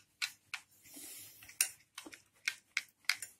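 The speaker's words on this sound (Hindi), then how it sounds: "तो हम इसे अच्छे से मिक्स कर लेंगे।" A spoon clinks repeatedly against a bowl while mixing oil into a batter for gobi manchurian, a series of close, sharp metallic taps and scrapes at an uneven rhythm with no talking.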